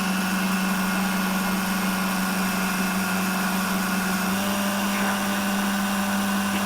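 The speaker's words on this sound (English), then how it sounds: "Depending on what type of food processor you have will depend on how smooth that gets." A food processor whirs steadily while blending blueberry cheesecake filling, a loud constant motor drone with a strong hum that runs unbroken throughout.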